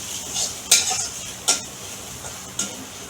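Steady sizzling of grated coconut frying in oil, broken by a few sharp scrapes and clinks of a spoon stirring against the pan.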